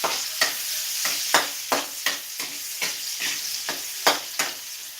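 Onions hit a pan of sautéed garlic with steady sizzling frying, broken by regular sharp scraping stirs of a spatula roughly every half second, close and alone without talk.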